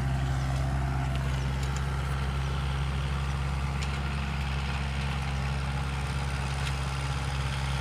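A Kubota MU4501 tractor runs a rotavator in a farm field, its engine giving a steady, even low drone with no sign of strain, continuous and fairly loud throughout, with no voices.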